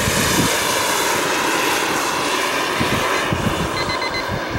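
Hughes 500E helicopter turbine engine spooling up, a loud steady whine and roar with broadband rushing noise and faint rhythmic rotor thumps, close by and continuous with no talk.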